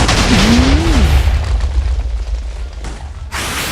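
TNT blast in the Minecraft video game, a loud booming explosion that rumbles and fades over a few seconds before a second burst of noise near the end.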